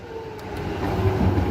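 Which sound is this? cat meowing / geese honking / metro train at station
metro train at station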